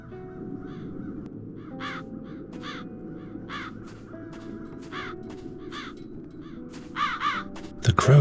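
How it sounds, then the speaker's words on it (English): Crows caw repeatedly at a steady rhythm in The Dark Eye: Chains of Satinav, with clear, moderately loud calls over a low ambient game background that grows louder near the end. "The crows haven't left anything of the town's banner."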